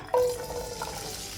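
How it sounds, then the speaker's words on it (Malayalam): Two medium potatoes cut into small pieces are dropped into well-heated oil for a North Indian mixed vegetable curry. After a brief quiet moment, a sudden sizzle bursts out and settles into a steady, close hiss. "ഓയിൽ നന്നായി ചൂടായതിലേക്ക് നമുക്ക് ആദ്യം പൊട്ടറ്റോ ചേർത്ത് കൊടുക്കുക."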